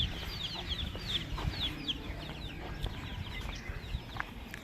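Hens clucking and calling around a farmyard at a grandparents' rural home, several birds overlapping at moderate distance over a steady low outdoor rumble, no talking.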